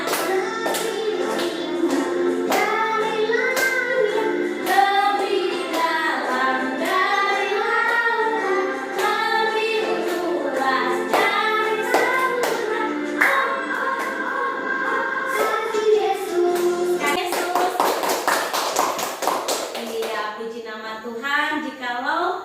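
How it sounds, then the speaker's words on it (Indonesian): A church congregation sings a worship hymn together while clapping along, the claps landing as steady rhythmic beats beneath the melodic group singing throughout. "Sambil tepuk tangan ya."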